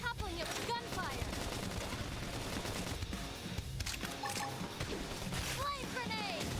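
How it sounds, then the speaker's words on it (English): Gunfire in the video game Xenoblade Chronicles X, rapid bursts of shots mixed with crashing impacts and game effects, loud and continuous through a busy battle. "Try toppling it with gunfire."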